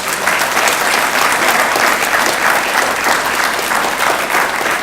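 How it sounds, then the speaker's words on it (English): An audience applauds the award winners at the 2014 MBQ Innovation Awards ceremony in the Mid-South, with loud, dense, sustained clapping from a large crowd that holds steady throughout. "let's have another applause for all of our award winners"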